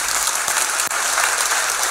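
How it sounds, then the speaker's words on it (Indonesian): Audience members at a seminar applaud together in a dense, continuous burst of clapping that fills the room evenly from start to finish, with no voices over it. "Kita beri tepuk tangan untuk kebenaran ini."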